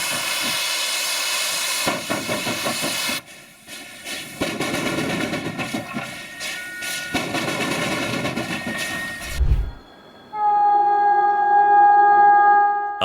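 Steam locomotive JS8225 claws its way out of a coal pit under a heavy load: loud rhythmic exhaust chuffs and hissing steam, a brief deep rumble, then a sustained shrill whistle near the end.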